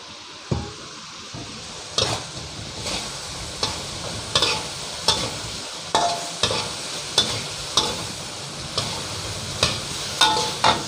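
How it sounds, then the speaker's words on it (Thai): Tofu stir-fried in hot oil for spicy holy basil tofu, a continuous sizzle punctuated by regular scraping strokes of a spatula against the pan, close and alone. "น้ำมันจะขุกขิกไปหน่อยครับ"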